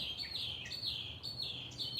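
Birds sing outdoors in a repeating series of high, thin chirps and tweets, at least two birds calling over a soft, steady background hiss, with no one speaking.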